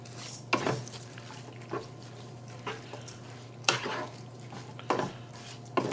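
Rice and canned black-eyed peas being stirred together in a pot for a vegetarian jambalaya, with a steady low hum and several scraping spoon strokes spaced a second or so apart, close and moderately loud.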